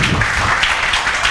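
A classroom full of students applauds, an even wash of many hands clapping together at close range, sustained without a break.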